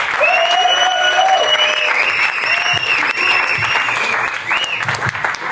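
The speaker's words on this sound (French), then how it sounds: "je vais vous demander de faire un maximum de bruit et d'accueil pour Rémi Fourière, s'il vous plaît." Audience in a packed hall applauds and cheers to welcome a speaker to the stage, a dense wash of clapping with whistles and shouts throughout.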